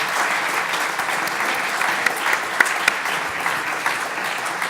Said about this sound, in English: I would like to ask the audience to give a warm applause once again to our panelists.